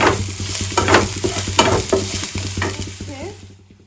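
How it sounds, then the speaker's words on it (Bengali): Small chopped onions are lightly fried and stirred in a pan. Close, repeated scraping strokes of a spatula run over a steady sizzle with a low background hum, fading out at the end. "হালকা একটু ভাজা করে নেবো যাতে কাঁচা ভাবটা চলে যায়।"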